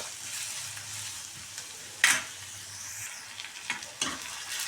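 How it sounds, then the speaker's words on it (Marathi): Chopped onion and green chili frying in oil, a low, even sizzle broken by a few sharp stirring scrapes and clacks against the pan. "कांदा आणि हिरवी मिरची कट केलेली हे दोन्ही मी एकदम टाकले आहे त्याला छान असं फ्राय करून घ्यायचं आहे तेलात"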